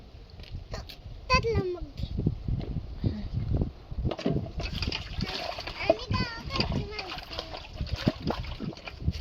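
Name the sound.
water splashing while washing clothes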